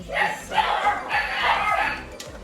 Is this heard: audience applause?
no